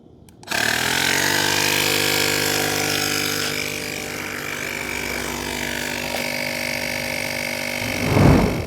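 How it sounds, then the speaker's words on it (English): An AUXITO A301 portable 150 PSI tire inflator air compressor starts abruptly and runs steadily for several seconds with a buzzing motor drone and rattling, loud and close, before a brief louder bump near the end. "I'm going to see how long it takes for the compressor to go from 40 psi to 42"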